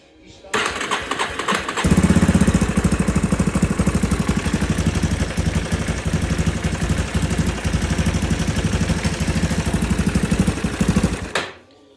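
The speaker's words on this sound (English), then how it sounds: "the Raptor 350 is rebuilt, and here's the startup." A rebuilt Yamaha Raptor 350 ATV engine cranks and fires, then settles into a loud, steady single-cylinder idle with a rapid, even thumping chatter, heard up close for several seconds before cutting off.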